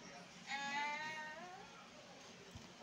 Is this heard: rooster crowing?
no